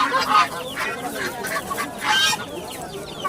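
Several chickens, including black hens, cluck and squawk close by in irregular bursts at a poultry market in Andijan, over a busy background murmur.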